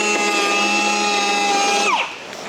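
A power planer cuts back a bowed wall stud, a steady loud high whine that drops sharply in pitch and fades as the tool winds down near the end, with no voices.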